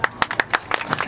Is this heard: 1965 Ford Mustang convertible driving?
no